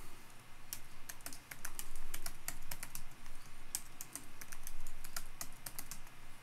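Someone types a password on a computer keyboard, with quick irregular bursts of crisp key clicks and short pauses between them, close and fairly quiet over a low background hum.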